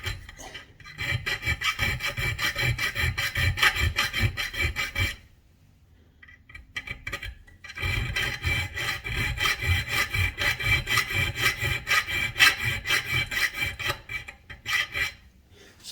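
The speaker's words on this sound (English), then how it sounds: "now I'm going to take my my chainsaw file and round these out" A chainsaw file rounds out a cut in a Yamaha RMAX4 side-by-side door, fast rhythmic rasping strokes close up, two long bursts separated by a short pause.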